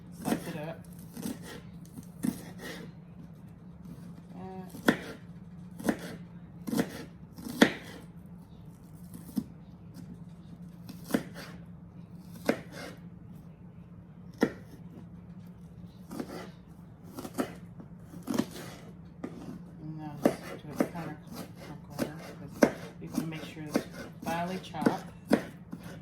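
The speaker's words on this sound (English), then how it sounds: "I'm gonna finally slice it up." A knife chops onion for potato salad on a board, a series of sharp close taps in an uneven rhythm over a low steady hum.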